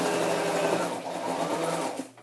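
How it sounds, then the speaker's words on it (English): A Brother sewing machine runs steadily close by, giving a continuous buzzing whir for about two seconds before it slows and stops. "sewing machine, and this one is just another Brother"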